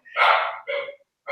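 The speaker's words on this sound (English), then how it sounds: "sorry, that's my dog." A dog barks indoors in two loud, close barks in quick succession, a third starting at the end, with no talk over them.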